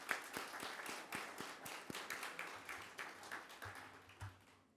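A crowd applauds at the grand opening and ribbon cutting of Islais Place, a fully affordable housing development, producing dense, steady clapping with sharp individual claps popping out, sustained for several seconds.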